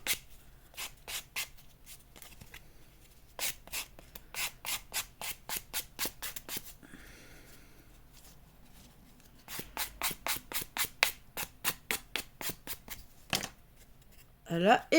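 A hand file rasps over glued cardboard pieces to smooth them, making quick rhythmic bursts of scraping strokes that pause in the middle and then resume, close and crisp.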